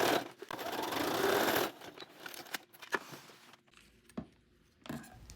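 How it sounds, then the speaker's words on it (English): A sewing machine hems a skort's folded fabric edge with a straight stitch, running as a dense, steady whir for the first couple of seconds, then falling to quieter scattered clicks and handling taps. "Now I'm hemming it by just using a straight stitch and sewing as close to the inside folded"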